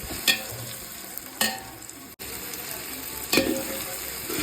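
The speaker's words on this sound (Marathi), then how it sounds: "टोमॅटो टाकून चांगले हलवून घेऊ आणि परतून घेऊ" Chopped tomatoes stirred and sautéed in a pan over cooked onions, with a steady soft sizzle and a few distinct scraping stirs of the spoon.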